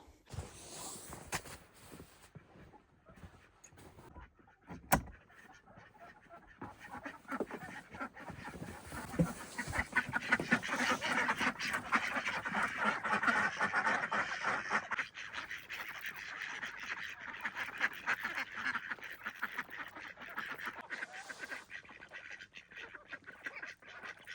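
Ducks on a freezing farm pond on a snowy winter morning honk and quack steadily at a moderate distance, a continuous chorus of calls without talking.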